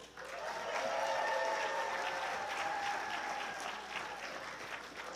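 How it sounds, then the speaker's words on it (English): Sustained applause from a crowd, loud and steady for several seconds with a few faint cheers mixed in. "Give them a round of applause."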